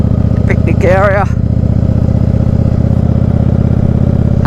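Motorcycle engine running steadily up close as the bike rolls into a campground and picnic area, with a brief voice near the start over the continuous rumble.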